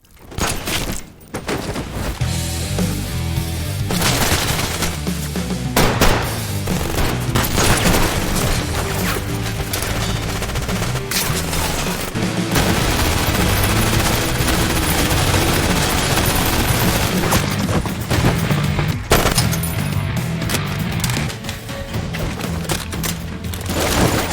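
Intense gunfire from a palace shootout in an action film: dense, continuous bursts of automatic weapons mixed with booms and impacts, loud and sustained throughout.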